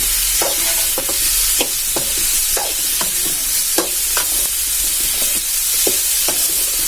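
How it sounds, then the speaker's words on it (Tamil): Mango pieces for a sweet and sour mango pachadi sizzle steadily in a pan, with repeated spatula scrapes and taps against the metal over a constant frying hiss. "நல்லா அப்படியே சுருள் நல்லா வதக்கி விடுங்க"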